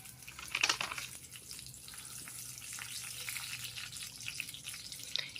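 Black cumin (nigella seeds) and dried red chillies fry in hot mustard oil for shim bharta, a faint steady sizzle with a brief crackling burst at the start.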